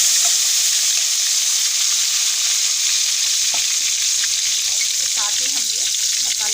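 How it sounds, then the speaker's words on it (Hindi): Tomatoes hitting hot oil with browned garlic, a loud, steady hiss and sizzle throughout with faint stirring clinks near the end and no voices. "अब इसमें हम ये टमाटर ऐड करेंगे"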